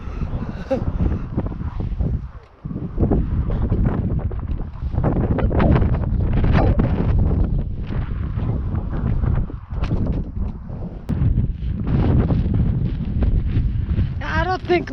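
Strong wind blows across a hilltop in Iceland, a constant rough buffeting roar against the microphone for the whole stretch, with a person speaking underneath.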